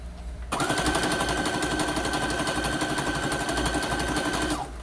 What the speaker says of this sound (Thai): ผมก็จะ เย็บเลย เอาเร็วนิดนึง